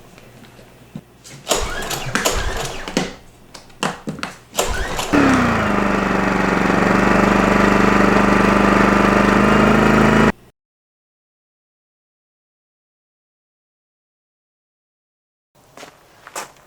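A WEN DF360iX 3600-watt dual fuel generator gets a few sharp pull-cord rips, then starts and settles into a loud, steady running drone close by before it cuts out abruptly.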